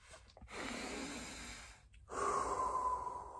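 A storyteller draws a deep, audible breath on stage at a mountain story festival, a long rushing inhale followed by a brief pause and a second strong breathy exhale or inhale, close and alone with no talk.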